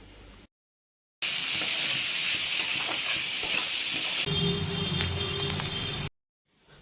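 Onions fry in a hot pan for fried rice, giving a loud steady sizzle and hiss with stirring scrapes. The sizzle starts abruptly, drops to a quieter crackle partway through, then cuts off.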